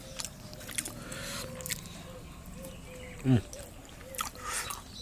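Someone eats soft boiled new potato with rice and silver carp fish curry at close range, making faint wet chewing and squishing sounds. One brief louder bite comes near the end.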